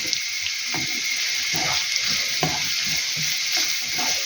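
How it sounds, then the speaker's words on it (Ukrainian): Salted carrots fry in a pan with a steady, close, bright sizzle and a few soft stirring knocks, no voices over it. "Хай трошечки морква посмажиться."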